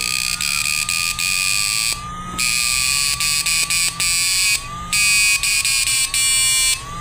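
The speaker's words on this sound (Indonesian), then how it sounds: "Ini buzzernya agak pecah ya" A loud, harsh piezo buzzer in a flip-flop circuit blares a continuous shrill tone that sounds slightly cracked, cutting out briefly twice before resuming, with faint clicks underneath.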